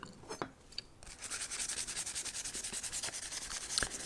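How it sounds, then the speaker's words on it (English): Wood knife handle being sanded by hand with 220 grit sandpaper, a steady rhythmic rasping of back-and-forth strokes, close and continuous after a brief quieter start. "my final sandpaper is going to be a 220 grit"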